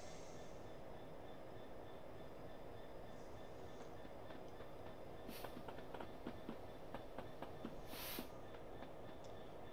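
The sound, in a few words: freight train running on rails in a train simulator video game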